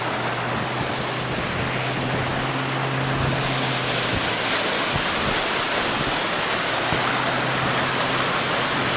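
North Cheyenne Creek rushes below Helen Hunt Falls in Colorado Springs, a steady broadband roar of flowing water heard close and continuous, with faint scuffs from walking on the hike and no talk.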